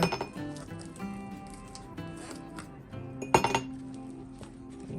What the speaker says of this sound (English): So I'll add a few ice cubes into here.